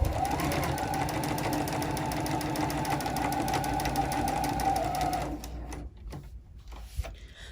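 A sewing machine stitches a fabric corner on a sunglass pouch, a close, loud, steady rapid whir that runs for about five seconds and then stops, followed by quieter handling noises.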